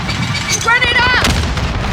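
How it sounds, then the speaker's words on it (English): Grenade explosion in Call of Duty: Modern Warfare multiplayer, a loud deep boom with rumble and crackling bursts of gunfire around it, while a tonal voice-like sound rises briefly in the middle. "Grenade out!"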